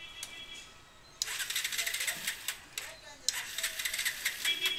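A Bajaj Pulsar BS6 motorcycle cranking on its electric self-starter, two long bursts of harsh buzzing whir separated by a short pause, close and loud, with a voice faint in the background.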